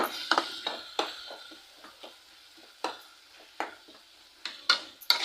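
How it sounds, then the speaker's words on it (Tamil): Tomatoes sauté in a covered pan for a dried-fish thokku, a soft low sizzle broken by repeated clinks and scrapes of a spoon stirring against metal, near and fairly quiet, no talking. "நல்லா தக்காளியும் நல்லா வதக்கி விட்டுக்கோங்க."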